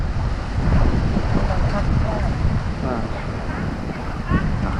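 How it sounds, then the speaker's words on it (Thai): Strong wind buffets the microphone on an inflatable raft during river rafting at Kaeng Krachan, a loud, rumbling gusty roar with water sloshing beneath and voices faintly under it. "ลมมันแรงครับ"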